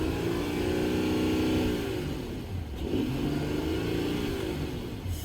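A 2020 Mercedes-Benz GLE 450's 3-liter supercharged V6 revs up and falls back twice, a smooth, strong mid-pitched roar heard close and alone.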